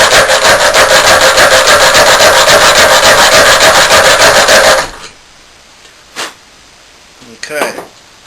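An MXZ saw cuts into a Master Lock in rapid, even back-and-forth rasping strokes, loud and close for about five seconds, then stops, followed by a couple of brief scraping sounds.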